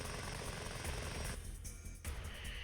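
Steady helicopter rotor drone from the mech game Front Mission 4, a constant whirring wash with a brief dip in the middle, no voices.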